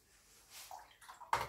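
Brush swirling cerulean blue and ultramarine watercolour paint with water for a sky wash, a soft wet swishing that builds to a louder splash and sloshing near the end, close and alone.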